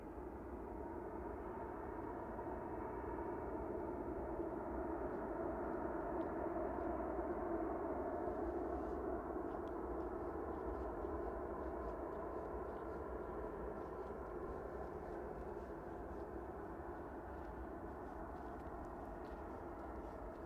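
An SAS Airbus A320neo airliner departs Manchester Airport in the evening, its engines giving a steady, broad jet roar that swells slightly midway and holds, continuous and moderately distant, with no voices.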